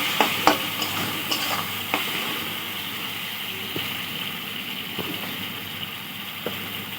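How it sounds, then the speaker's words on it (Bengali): Ginger garlic paste with ground cumin and coriander frying in a pan for a Bengali katla fish curry, a steady soft sizzle with a few light clinks and scrapes of stirring, no talk. "মশলাটা ভালো করে কষে নিতে হবে।"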